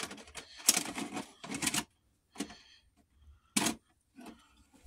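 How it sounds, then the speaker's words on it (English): A VHS tape goes into a VCR in a series of close plastic clacks and mechanical clicks, bursts separated by short silences, ending with a softer whir. "Let's put the tape in."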